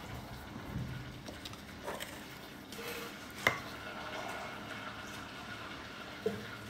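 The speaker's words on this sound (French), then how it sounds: "Je vais remélanger l'autre moitié en attendant que mon beurre il fonde." Sellou mixture, with gofio and praline, is worked and stirred in a bowl with soft scraping and rustling, broken by a couple of sharp utensil knocks, quiet and close.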